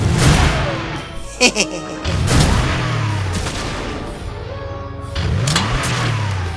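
A car engine revving in the video game Dragon Quest Builders, with repeated surging revs and a rough mid-range roar that rises and falls, plus a couple of sharp thumps midway.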